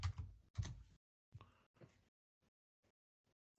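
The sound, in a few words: typing a command on a computer keyboard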